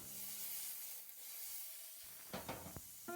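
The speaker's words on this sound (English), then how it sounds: "add about a tablespoon of oil, and add your mushrooms, working in batches if you have to" Mushrooms searing in a tablespoon of oil in a hot pan, a soft sizzle and hiss that fades low, followed by a few close clattering knocks as the pieces are moved.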